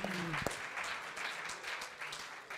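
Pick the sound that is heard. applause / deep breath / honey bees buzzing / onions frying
applause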